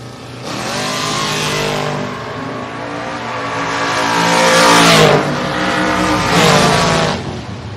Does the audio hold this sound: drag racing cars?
yes